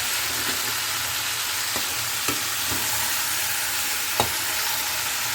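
Chicken fries on a slow flame with a steady, even sizzle in a pan, while a spoon scrapes and taps against the pan in a few scattered strokes. No one speaks.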